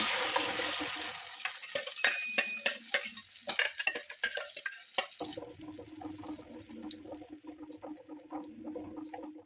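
Ground coconut paste is tipped into a hot pan for a yogurt curry with taro stems and stirred, making scraping clatter and sputtering sizzle that settle into a softer, steady frying hiss.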